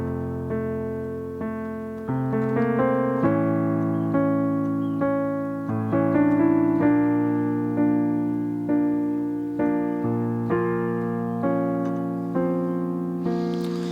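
Solo piano plays the simple chordal intro of a song, one note at a time in the right hand over sustained low chords, each phrase ringing and slowly decaying at a steady, moderate volume.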